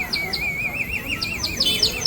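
Small birds in Udaipur chirp in quick, bright repeated trills and tweets, several calls overlapping in a lively rhythmic pattern, fairly close and clear against a soft background hum.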